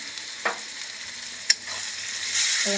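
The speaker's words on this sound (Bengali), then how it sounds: "মশলাটা ভালোভাবে কষিয়ে নেব" Chili and coriander powder spices fry in a pan while being stirred, giving a steady soft sizzle with a couple of brief clinks of the utensil against the pan, close and moderately loud, with no talk.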